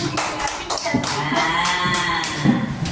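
A class of second-grade children claps for a classmate during a music lesson, a brief burst of irregular hand claps close by, with young voices mixed in.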